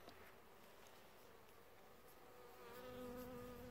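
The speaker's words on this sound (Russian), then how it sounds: "Пчелки опыляют." Bees pollinate flowering tea plants on an outdoor plantation near Sochi, giving a soft, continuous insect buzz that hovers close and swells slightly toward the end, with no voices.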